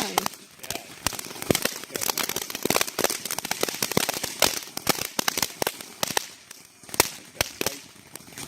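Rapid, irregular bursts of sharp crackling pops from fireworks, loud and close, continuing densely throughout with occasional louder cracks.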